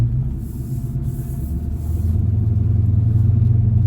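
A 1970 El Camino with a Turbo 400 transmission and Gear Vendors overdrive, heard on a test run: a low engine rumble that drops briefly, then builds to a louder steady drone as it gathers speed.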